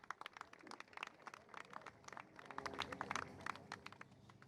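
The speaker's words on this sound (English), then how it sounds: "Big round of applause." Scattered, faint applause at a women's trap shooting World Cup final in Lima, Peru, a loose patter of claps from a small crowd heard from a distance.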